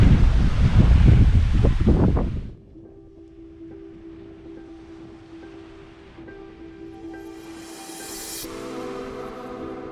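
Strong wind buffets a beach on Barbuda, with loud, rough gusts roaring close for the first two seconds, then easing into a quieter, steady whoosh with a faint low hum underneath.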